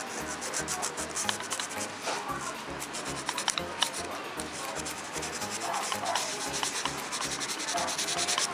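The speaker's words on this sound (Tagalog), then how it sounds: "ito lihain naman natin ito ng 1000 grit" A Honda XRM125 motorcycle starter carbon brush rubbed on 1000 grit sandpaper, a close, continuous rhythmic scratching of quick back-and-forth strokes.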